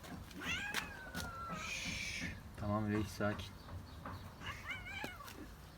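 A kitten meows again and again with high, near cries, some drawn out and wavering like a caterwaul, while people talk nearby.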